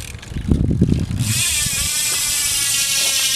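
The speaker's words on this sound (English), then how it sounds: "It's got a nice hub sound." A Profile Z Coaster bicycle hub freewheels with a loud, fast, steady buzzing click held close. Rumbling handling noise comes first, then the whir runs on evenly.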